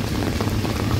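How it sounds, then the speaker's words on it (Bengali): Steady rain falls along the Buriganga river bank in Bangladesh, a dense even patter without a break, close and moderately loud, with no voices. "এই রিমঝিম বৃষ্টির মাঝে"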